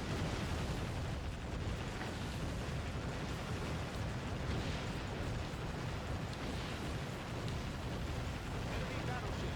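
Naval shellfire in the video game Warship Gunner 2, shells striking enemy battleships: a dense, continuous roar of explosions and booming impacts over a steady wash of sea and engine noise, loud throughout.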